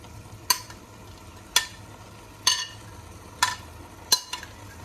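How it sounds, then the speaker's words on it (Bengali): A fried fish head goes into a pan of ash gourd, and a utensil scrapes through the mixture in five evenly spaced strokes over a faint sizzle. "ভেজে রাখা মাছের মুড়োটা দিয়ে দিলাম।"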